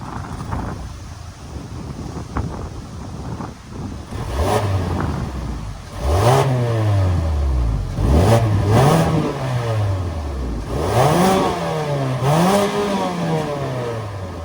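A 2022 Mazda CX-30's 2.5-liter four-cylinder engine starts up and idles, then revs several times in quick rising-and-falling sweeps, loud and close with some wind noise, no talk.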